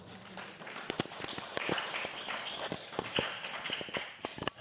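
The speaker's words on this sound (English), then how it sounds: "Give yourselves a great round of applause." Audience at a live, in-person anxiety-relief talk show claps together, a busy stream of close hand claps with sharper individual slaps popping out over steady crowd noise for several seconds, with no talking.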